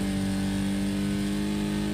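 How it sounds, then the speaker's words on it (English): Race car engine in the PS5 game Wreckfest, a steady loud mid-pitched drone with sustained tonal harmonics, holding constant throughout as another car runs close behind on the left. "there's a car right behind me. I can hear it on the left."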